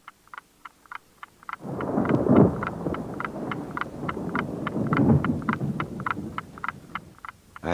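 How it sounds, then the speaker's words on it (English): A storm at sea is heard from inside a ship's cabin in an audio drama: a deep rumbling roar of wind and thunder swells up and lingers, over a steady train of short rhythmic croaking pulses. "I lay in my cabin listening to the storm."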